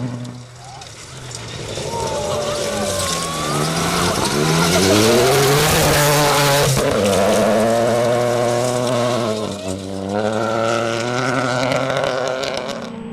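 A rally car at the Algoa Rally charges uphill, its engine revving hard through rising and falling gear sweeps, with tyre squeal and skidding as it nearly slides wide at a right-hander near the crest.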